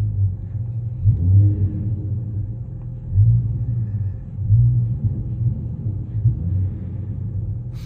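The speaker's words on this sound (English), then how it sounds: "I'll rev it really quick inside" A Dodge Charger GT with a V6 and a rear muffler delete exhaust is revved, heard from inside the car: a deep low rumble at idle swells in several short throttle blips, then settles back.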